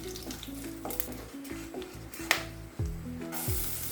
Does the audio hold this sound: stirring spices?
yes